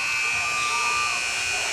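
A basketball game buzzer in a high school gym sounds one sustained, droning tone over a constant wash of crowd noise during a Kecoughtan versus Hampton game.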